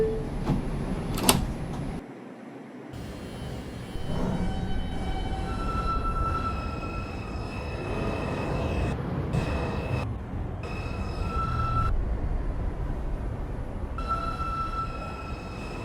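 New York subway 5 train at East 180 Street: sliding doors thump shut with chimes, then the train rumbles and whines as it pulls away, motor tones rising and falling over steady rail clatter.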